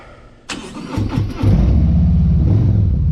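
A Milwaukee-Eight 107 motorcycle engine cranks and fires up close by, catching after a short starter whir and settling into a loud, deep, rumbling idle with a few uneven pulses.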